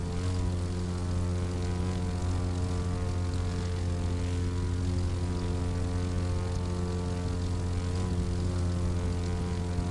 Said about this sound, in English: I can fly upside down at low altitude for a few minutes at a shot.